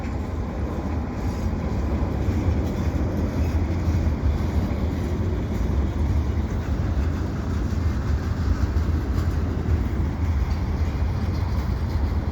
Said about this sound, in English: This is the second CP train I've seen in probably less than 15 minutes.